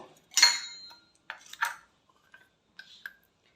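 Ground spice paste is scraped off a stone grinding slab into a bowl: a few short, gritty scraping strokes with a light clink, separated by quiet gaps, close and fairly soft.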